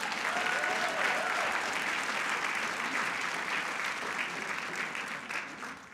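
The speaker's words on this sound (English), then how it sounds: "Let's give her a round of applause." A crowd claps steadily and warmly for several seconds, a dense wash of applause that slowly tapers off.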